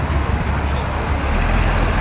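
A big tour bus passing on a city street, a loud, close, low engine rumble and road noise filling the brief moment, with a faint voice in the background.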